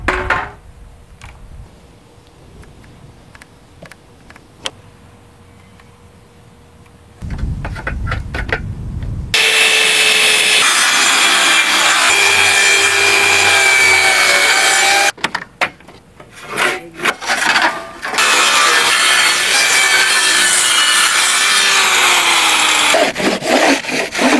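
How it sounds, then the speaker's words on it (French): Wooden deck boards being cut to size with a saw outdoors, a loud, continuous rasping cut running steadily for long stretches with brief pauses between strokes and handling knocks, no talking. "Pour terminer, il faut scier les planches à l'avant aux dimensions voulues."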